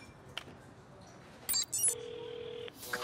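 A cartoon telephone in an animated Equestria Girls short rings with an incoming call: a few short electronic chirps, then one steady, sustained ring tone that stops abruptly before more bright tones at the end, all close and fairly clear.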